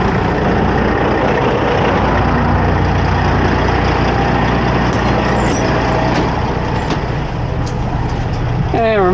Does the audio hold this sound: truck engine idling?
yes